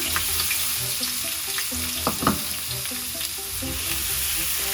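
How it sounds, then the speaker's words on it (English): Chopped onion fries in heated olive oil in a pot, giving a constant close sizzle with a couple of brief stirring clatters and scrapes midway; no talking. "Once it's heated, add in your chopped onion"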